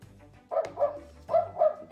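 An electronic children's board game plays a recorded dog barking, a few close, clear woofs in two pairs with short pauses, alone without talk.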